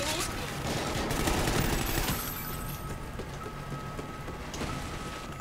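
Gunfire in the Call of Duty Ghosts video game: dense, continuous crackling bursts of shots rolling under a noisy, rain-like wash of battle sound, loudest in the first couple of seconds and then steadier.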